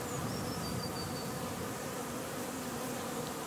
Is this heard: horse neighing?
no